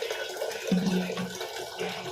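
Water runs from a tap into a vessel of rice in a home kitchen, a short rushing pour with a brief gurgling tone as it fills, heard close without talk.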